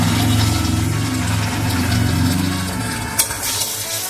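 Ginger paste being stirred into a hot, sizzling pan for Bengali shukto, a loud, steady fry with scraping spoon strokes and a sharp clink near the end.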